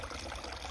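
Water from a small waterfall splashes into a backyard fish pond with a biofilter, a steady continuous rushing and trickling wash that stays even throughout, close by with no voices.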